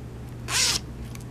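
A bag's zipper is pulled open in a single quick, bright rasp lasting about a quarter second, close to the microphone against a low steady room hum.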